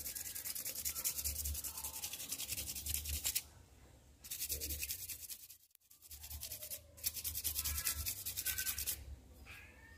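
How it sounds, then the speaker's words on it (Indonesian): Rhythmic rasping strokes of wet 5000-grit sandpaper rubbing against a hard stone, close and steady, pausing briefly a few times before resuming. "saya baru mengamplas di tahap pengamplasan menggunakan amplas 5000 ini"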